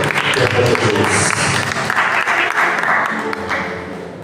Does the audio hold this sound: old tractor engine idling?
no